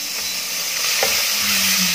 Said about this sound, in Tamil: இப்போ நம்ம பெரிய வெங்காயம் சேர்த்துடலாம்.